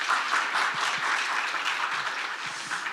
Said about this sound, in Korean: 여러분 한 번 더 박수 부탁드립니다